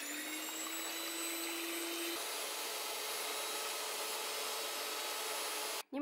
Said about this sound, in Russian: Миксер и взбиваем до увеличения в объеме.